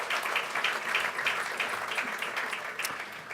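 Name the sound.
audience applause at awards night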